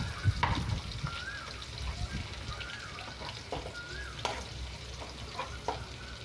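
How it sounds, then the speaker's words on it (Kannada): Onions fry in hot oil in a kadai, giving a continuous soft sizzle with scattered stirring scrapes and light clatter, fairly quiet and steady throughout. "ಆ ಕಡಾಯಿ ಕಾದ್ಮೇಲೆ, ಎಣ್ಣೆ ಕಾದ್ಮೇಲೆ ಈರುಳ್ಳಿ ಹಾಕ್ಕೊಂಡು ಫ್ರೈ ಮಾಡ್ಕೊಳ್ಳಿ"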